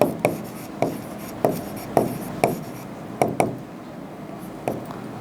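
Chalk or marker strikes a classroom board during a physics lesson on thrust, a dozen sharp irregular taps and scrapes over quiet room hiss, close and fairly loud, with no talking.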